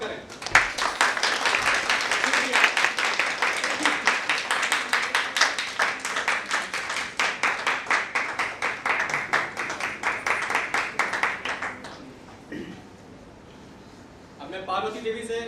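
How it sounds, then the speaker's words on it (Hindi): Rhythmic, steady clapping from a crowd at a college flag-hoisting ceremony runs for about twelve seconds, then stops abruptly; brief voices follow. "आप सभी लोग जोरदार तालियों से इनका स्वागत करें।"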